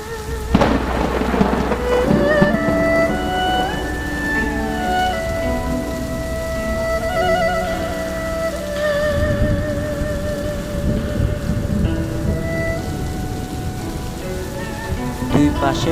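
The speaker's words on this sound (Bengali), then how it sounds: "আমরা আসা মাত্রই বৃষ্টি শুরু হয়ে গেল" Rain pours at Sitakunda eco park, a constant broad wash of falling water with low rumbling underneath, while a few sustained tonal sounds drift over it.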